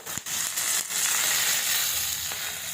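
Vallarai (pennywort) greens frying in oil in a pan, a steady broadband sizzle with a few sharp crackles and pops near the start, close and continuous throughout.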